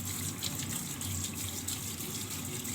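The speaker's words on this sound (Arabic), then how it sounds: "دي فرشة بحب اغسل بيها السمك،" A fish is scrubbed with a dedicated fish brush under a running tap, a steady close gush of water into a sink that continues without pause and without speech.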